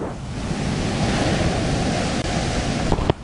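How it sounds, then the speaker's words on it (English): Storm-driven waves crashing at Lantic Bay, a continuous heavy roar of surf with wind buffeting the microphone, steady and loud throughout, with a couple of sharp knocks near the end. "That's how these like freak monster waves work."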